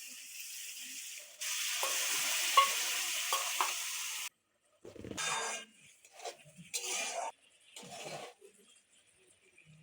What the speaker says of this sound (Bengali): দইটা দিয়ে ভালো করে নেড়ে নিতে হবে